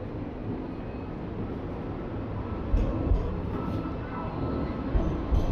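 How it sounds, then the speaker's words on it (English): A tram rumbles past on a city street in Sydney, Australia, a steady low rolling roar with a few sharper clunks and rattles as it goes by. "Oh look, we're just in time for some top quality tram action."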